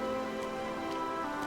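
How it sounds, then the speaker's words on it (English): Steady rain falls in the video game Infinity Nikki, a dense, even patter of drops that stays constant and fairly loud throughout, with no voices over it. "And it's raining."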